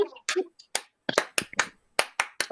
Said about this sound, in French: Donnons-lui cette acclamation.